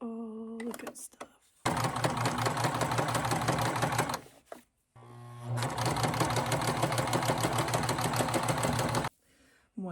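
A sewing machine stitches a seam on pant panels at a 5/8 seam allowance, running in two long, steady, rapid bursts with a brief pause between them, loud and close with no talking.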